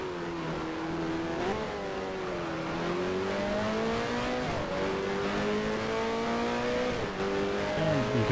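Racing car engines in the F1 Challenge 1973 game at the Italy race, several harmonic engine notes rising and falling with gear changes as cars jostle and overtake, loud and continuous with no talk.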